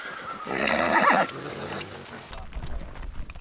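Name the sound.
horses on a ranch horse drive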